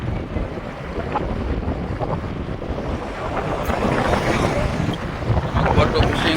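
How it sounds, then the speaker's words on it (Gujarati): Fishing boats coming back into a harbor after fishing, heard as a steady low engine rumble mixed with wind buffeting the microphone and water noise, growing slightly louder; a voice is present. "બોટો ફિશિંગ કરીને આવી ગઈ"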